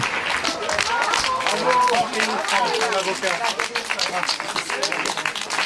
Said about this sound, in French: Vous voyez, ces applaudissements, c'est mérité.